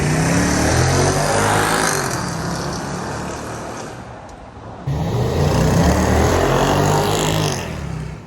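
A BMW X5 E70 V8 with resonators removed makes an exhaust flyby, a loud rough roar that fades as it passes, then swells again as a second pass arrives, no talk.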